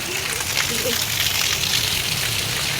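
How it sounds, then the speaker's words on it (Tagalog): Heavy rain pours down in a steady, dense wash of broadband hiss, close and loud throughout, with a voice faintly audible beneath it. "Ning, kusog ang uwan"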